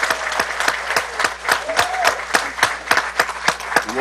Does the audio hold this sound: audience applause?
yes